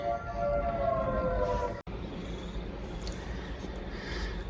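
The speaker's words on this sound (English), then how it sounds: "the siren ringing for some stupid reason" A civil defense siren wails in long rising and falling tones, broken by a brief cut, then continuing more faintly under a noisy outdoor background.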